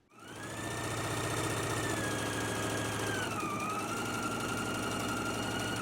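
A sewing machine stitches a pants leg hem, its motor whirring up quickly then running in a steady close, even hum with a slight pitch dip midway.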